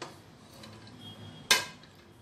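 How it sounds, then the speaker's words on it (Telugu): Boiled green groundnuts are tipped onto a plate, making one sharp clatter about midway through. The rest is a quiet kitchen hush, with no speech. "ఇప్పుడు మనము ఈ ప్లేట్లోకి ఈ విధంగా తీసేసుకుందాము అన్ని కాయల్ని"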